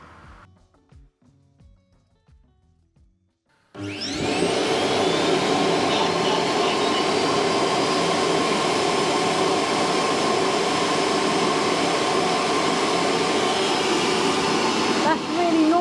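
An ultenic TS1 robot vacuum cleaner with mop roars to life after a few seconds of quiet handling clicks, then runs as a loud, steady whooshing drone with a faint high whine until the end.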